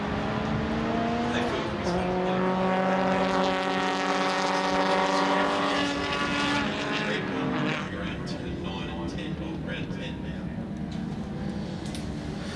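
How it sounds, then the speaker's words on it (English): Race cars run on a circuit at the Winton Festival of Speed, several engines droning and rising in pitch together in a long, loud, sustained howl. A commentator talks over the engines. "They are planting their cars just magnificently on the track."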